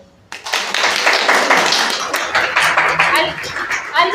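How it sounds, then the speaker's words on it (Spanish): A group of older adults at a senior community center mind-activation class claps together, a steady sustained round of applause with some voices mixed in. "un aplauso también"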